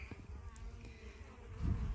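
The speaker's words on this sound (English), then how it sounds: "I still have a good amount of bees in here" Honey bees humming steadily around a hive entrance after losing a colony to predators, a faint continuous buzz with no voices.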